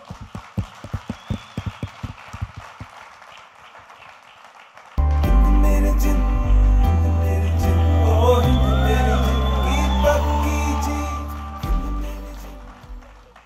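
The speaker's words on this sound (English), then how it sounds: "Big round of applause, ladies and gentlemen." Audience at a stage event launching a Sachin Tendulkar film anthem gives sharp, steady rhythmic claps that are then swamped by loud music mixed with crowd shouts and whoops.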